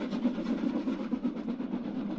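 Train on the old Hawkhurst branch line running through a short tunnel, a steady low rumble with faint rhythmic clatter of wheels, continuous and moderately loud.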